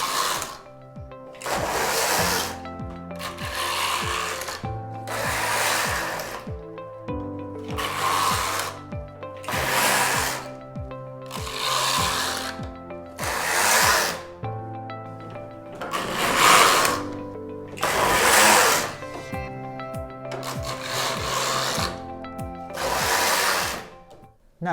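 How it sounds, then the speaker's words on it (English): A ribber carriage on a Knittax knitting machine is pushed back and forth across the needle bed in about a dozen regular swishing, clattering passes, each a couple of seconds long, close and fairly loud. "I lay my yarn into the ribber needles and I take my ribber carriage across."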